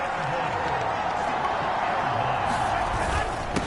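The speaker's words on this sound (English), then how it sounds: "This crowd doing all they can." A stadium crowd in a Madden football video game roars in a continuous, dense wash of cheering noise that stays steady and fairly loud throughout the short stretch.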